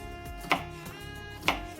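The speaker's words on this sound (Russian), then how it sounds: "лук обычно нарезайте кубиками" Two crisp knife chops dicing an onion against a cutting board, about a second apart, close and fairly quiet.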